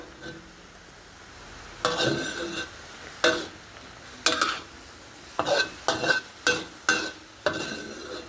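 Pork skin boiling down in a pot as the water nearly dries off, a soft bubbling simmer broken by irregular clinks and scrapes of a utensil stirring.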